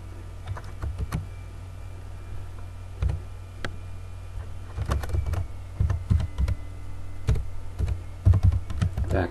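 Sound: typing program code on a computer keyboard

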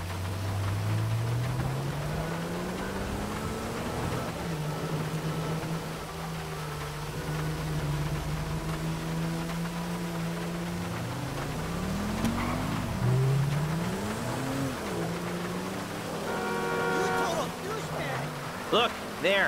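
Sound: car driving in video game GTA 5

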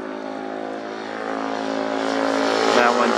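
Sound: loud motor passing by

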